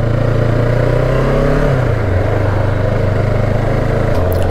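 A QJ Motor SRK 700 motorcycle's engine runs close and loud with a low, steady throbbing drone, its pitch dipping slightly midway as the revs settle, continuous without talk.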